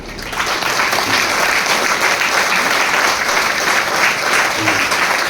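An audience at a Jain religious gathering bursts into applause during an Anand Yoga session, loud, dense clapping that rises quickly and holds steady, close and filling the space, with no voices.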